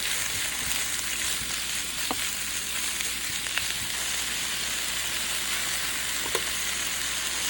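Fish frying in a pan for khao piak, a Lao rice noodle soup: a steady, close sizzle with occasional light stirring clicks and taps, no voices.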